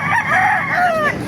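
A Kanawayon chicken, a hen, gives a short, loud vocal call, close by, with no talking.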